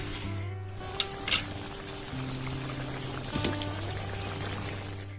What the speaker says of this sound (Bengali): ঝোল ফুটে উঠেছে, এবার ভেজে রাখা মাছগুলো দিয়ে দিলাম।